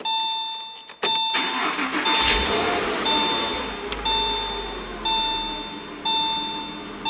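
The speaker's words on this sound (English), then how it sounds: "So let's start it." A Porsche Boxster's engine cranks and catches close by, then settles into a steady idle while a high warning chime beeps at a regular rhythm about once per second.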